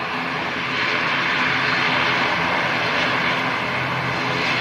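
Airplane engines roar steadily at London City Airport, a loud, continuous broadband drone that swells slightly after the first second and holds near, with a brief voice speaking over it at the start.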